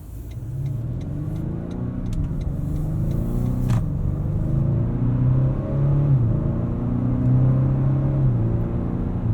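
A 2019 Acura RDX A-Spec SUV accelerating normally, its engine rumble rising steadily through the gears from inside the cabin, with shifts audible as dips in pitch, no voices.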